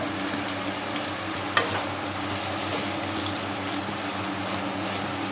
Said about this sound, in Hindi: अच्छा से मिलाते हुए ऑनियन को हम लोग फ्राई करेंगे।